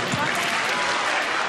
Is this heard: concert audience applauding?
yes